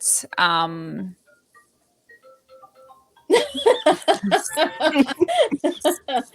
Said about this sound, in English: Someone needs to hang up that phone.